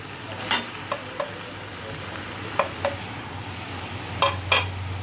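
Ground coriander, chilli powder, turmeric and green chillies fry in a pan with a soft continuous sizzle, punctuated by several sharp clinks of a spoon against the pan.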